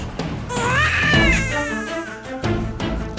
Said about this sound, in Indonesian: Itu suara bayi.